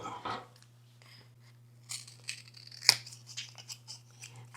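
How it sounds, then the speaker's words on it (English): Scissors cut out the strike pad of a matchbox, a few crisp close snips and tearing sounds with one sharp click midway, in an otherwise quiet room. "And then we want to cut out the strike pad."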